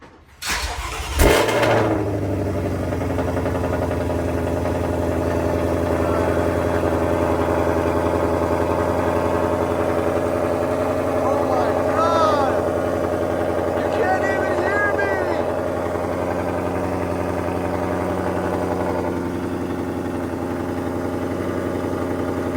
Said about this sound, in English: let's see what a cold start sounds like